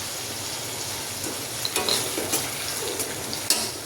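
Tomato puree is stirred as it sizzles in a pan while chana shaak cooks, giving a steady hiss of frying with soft scraping stir strokes and a few light clinks of the spoon against the pan.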